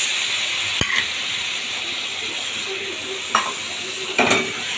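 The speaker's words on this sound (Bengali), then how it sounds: "খুব ভালোভাবে এটাকে কষাবো" A spatula knocks and scrapes in a pan of spice masala, tomato and turmeric frying in oil, with three sharp stirring strikes spread over a steady sizzling hiss.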